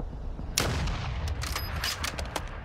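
Video game gunfire crackles in a close, rapid series of sharp shots and short bursts. The shots come in quick succession across the whole moment, with no talking.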